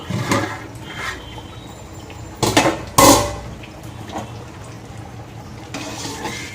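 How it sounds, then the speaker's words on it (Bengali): A metal lid goes onto a cooking pot of chicken khichuri with a couple of sharp clanks mid-way, amid soft kitchen clatter and faint background noise, close by. "এবার আমি ঢাকা দিয়ে দেবো তুলে নেব"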